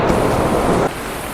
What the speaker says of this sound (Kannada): ಅಲ್ಲಿಂದ ಡ್ಯಾಮಿಂದ ಬರ್ತಿದೆ ಹಿಂಗೆ ನೀರು ನೋಡಿ